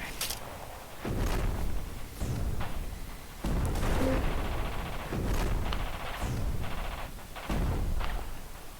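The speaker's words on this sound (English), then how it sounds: "Firing barrage at Lima 7-2." A battlefield strategy game plays an artillery barrage: a run of heavy, booming reports that fire one after another in an irregular rhythm, with rumbling decay between the loud blasts.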